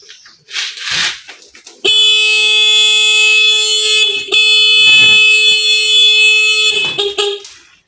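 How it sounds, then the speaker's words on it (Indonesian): A loud, harsh homemade motorcycle anti-theft alarm blares continuously at close range when the motorcycle is straightened, briefly pausing once, with rustling and handling noises around its start and end. "kalau dilurusin motornya, alarmnya akan bunyi"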